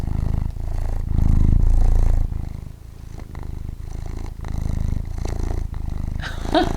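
Close, steady purring from a large 20-pound cat with a low rumbling rhythm, swelling louder briefly, with faint rustles and a small clatter near the end.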